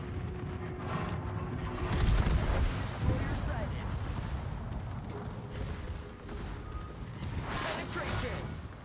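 Gunfire striking the player's ship in World of Warships, a naval video game: a dense, continuous rumble of shell impacts and booming blasts, loud and sustained, with a voice talking over it.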